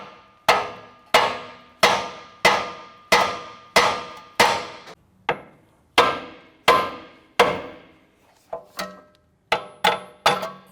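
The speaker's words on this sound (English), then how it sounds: "We're going to strike the lower control arm, and this will loosen the ball joint on the knuckle." A hammer strikes the lower control arm of a 2004-2008 Acura TL's front suspension to loosen the ball joint, a series of about fifteen sharp metallic blows in steady rhythm with a brief pause, each ringing and decaying.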